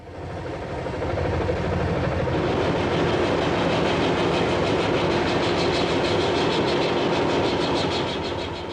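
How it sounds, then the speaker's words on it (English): Old steam engines fired by wood boilers drive belts to ancient drilling and sawing machines in a sawmill, giving a loud, steady mechanical roar with rapid rhythmic clattering throughout. "the whole place powered by an incredible ancient collection of steam engines with belt drives going to the various ancient machines that were used for drilling and sawing"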